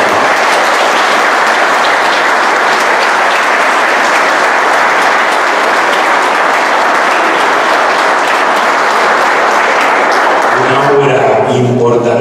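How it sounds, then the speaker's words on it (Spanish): Loud, dense applause from a large crowd at a tribute gathering fills about eleven seconds without a break, then fades out as a voice begins speaking. "aprovecho para pedirle un aplauso"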